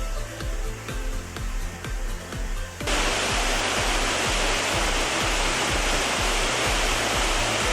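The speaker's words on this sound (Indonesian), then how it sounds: "sekilas air terjun Peterdun ini mirip dengan air terjun Tero-Tero ya pemirsa" Peterdun waterfall in Karo, a multi-tiered fall with a modest flow, pours as a loud, even, continuous rush that takes over after a few seconds of rhythmic music.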